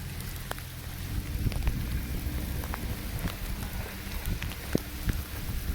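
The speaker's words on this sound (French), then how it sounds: "Tombe sur ma main, grêle." Steady dense patter of hail striking surfaces all around, with sharp individual impacts popping out of a constant hiss.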